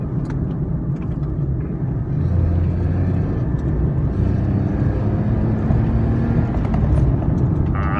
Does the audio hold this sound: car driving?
yes